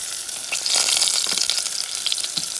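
Garlic sizzles in a pan over medium heat for black beans, a steady close crackling hiss with no talk.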